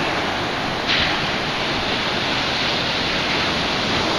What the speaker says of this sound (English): Big old waves.